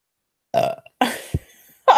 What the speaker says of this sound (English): Let's listen to a blonde burp